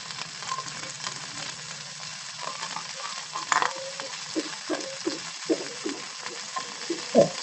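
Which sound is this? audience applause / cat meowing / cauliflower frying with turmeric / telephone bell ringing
cauliflower frying with turmeric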